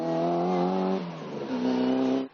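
A Mini Cooper S rally car engine revs during a regularity rally. A loud, close, harmonic engine note holds steady, dips, then climbs again before cutting off sharply, with no voices.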